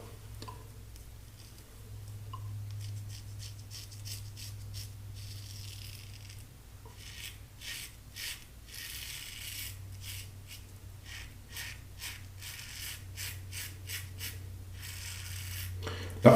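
Razor shaving a face against the grain on the final pass, a run of quick dry rasping strokes in close, irregular bursts over a low steady hum, fairly quiet throughout.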